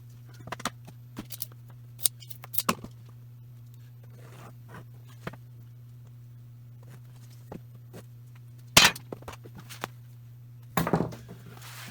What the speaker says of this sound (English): We'll use scissors so we don't cut through the bottom.